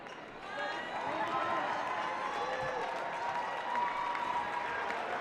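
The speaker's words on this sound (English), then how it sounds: "And the crowd is excited." A high school basketball crowd in a gym makes a steady wash of cheering and applause, with a loud, continuous murmur that swells slightly near the end.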